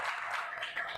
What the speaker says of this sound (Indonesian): Tepuk tangan untuk Najwa ya.